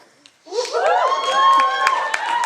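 A comedy show audience bursts into laughter and clapping after a short pause, with mixed voices and hand claps building quickly and staying loud and sustained.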